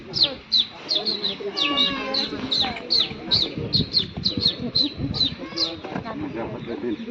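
A man imitates a sparrow's chirping with a rapid series of high, sharp tweets at a fairly even rhythm, close and clear, with some faint background murmur.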